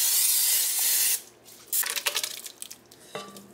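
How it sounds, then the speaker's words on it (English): Cooking spray hisses from an aerosol can in one long steady burst while greasing a vintage crock pot, then stops, followed by a few softer clinks and handling sounds close by. "I'm gonna be using cooking spray."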